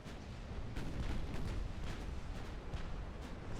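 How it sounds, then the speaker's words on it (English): Heavy naval guns boom in a dense, rumbling barrage as battleships fire during a fleet engagement in Ultimate Admiral: Dreadnoughts, the shots blending into a continuous roar with some sharper reports standing out. "I'm just kind of letting the battleships fire as they will"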